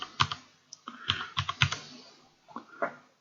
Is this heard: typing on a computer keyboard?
yes